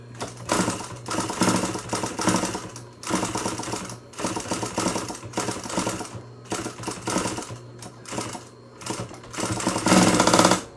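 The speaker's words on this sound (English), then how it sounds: "I sew a 1/4 inch seam on all my masks" Close, loud sewing machine stitching a quarter-inch seam on a fabric face mask, running in steady rapid bursts separated by brief pauses, with no voices.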